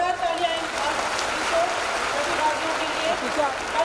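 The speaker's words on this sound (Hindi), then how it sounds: "जोरदार तालियां" An audience at a state school arts festival in Bihar gives a sustained round of applause for award competition participants, steady dense clapping from a crowd throughout.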